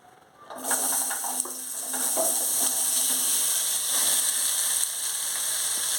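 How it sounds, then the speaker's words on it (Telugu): Bottle gourd pieces hit hot oil in a kadai and set off a steady, bright sizzle that starts abruptly and keeps going close up, with faint stirring clicks along the way. "ఇదే కడాయిలో మనము ఇప్పుడు సొరకాయ ముక్కలు టమాటో ముక్కలు ఇవి వేపుదామండి"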